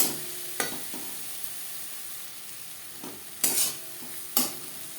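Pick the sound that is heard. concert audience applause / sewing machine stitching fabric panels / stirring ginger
stirring ginger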